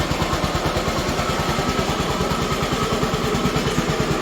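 A Honda ST90 motorcycle engine running in gear with the clutch engaged, a steady rapid low putter of even firing pulses at a constant speed, close by and alone.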